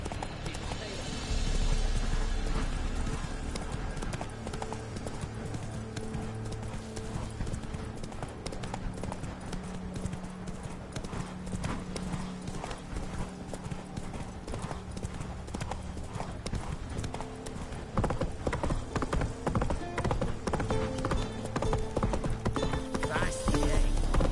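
Roach the horse trots in The Witcher 3, with steady rhythmic hoof clip-clops throughout under a droning game music bed, and a brief spoken line from the rider.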